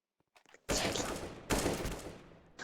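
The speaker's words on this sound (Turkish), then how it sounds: "pompalayla uzak mesafe yapmaya çalışıyorum" Two loud, booming shotgun blasts from a video game arrive in quick succession, each with a rough, dense burst that trails off, preceded by a few faint clicks.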